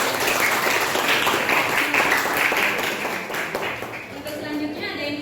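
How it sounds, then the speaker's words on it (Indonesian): Classroom applause for fellow students during a lesson on negotiation: a burst of many hands clapping together, fairly loud at first and gradually thinning, with voices talking over it. "Betul, kasih aplaus dulu untuk teman-teman."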